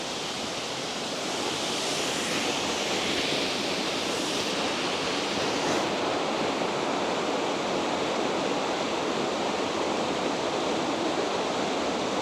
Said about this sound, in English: There's a big waterfall there